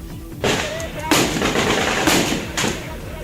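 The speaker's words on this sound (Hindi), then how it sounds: "जब सुरक्षा बल के जवानों ने फायरिंग तेज कर दी" Gunfire from security forces during an encounter with militants hiding in a burning house, heard as several loud, sharp bursts about half a second to a second apart over a constant rumble of background noise.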